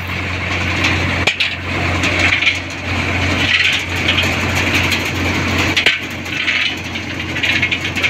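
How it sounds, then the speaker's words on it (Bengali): A multi thresher driven by an NVT engine runs close by in a steady, loud mechanical clatter, with a continuous low hum and rapid rattling grind and occasional sharper knocks. "চারদিকে মেশিন চলছে, তো কোনো সমস্যা হবে না"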